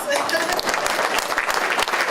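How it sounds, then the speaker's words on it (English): Audience applause fills the room, a dense steady patter of clapping throughout with no clear pauses. "yeah, applause"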